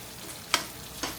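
Onions frying in cooking oil, a brief soft sizzle with two quick scraping clicks of a utensil, close and quiet, no speech.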